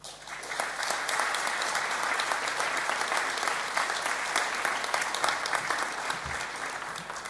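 Graduates at a college graduation ceremony applaud their families and friends in a sustained, dense wave of hall applause that rises quickly and holds steady for several seconds before starting to ease slightly.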